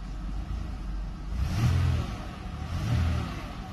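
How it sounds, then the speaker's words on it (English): A 2009 Chevy Impala with a slightly squeaky belt revs twice while parked, each rev a low engine swell rising over a steady idle, close by with no talking. "I'll give you guys a couple of revs for y'all"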